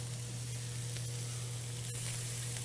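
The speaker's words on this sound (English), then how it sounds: "you'll hear this sizzle come back right away" Corn and tomatoes fry in a pan with a steady, close sizzle that keeps up a constant crackling hiss, with a low hum beneath it and no talk.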